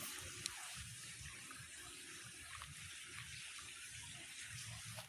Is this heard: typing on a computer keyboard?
no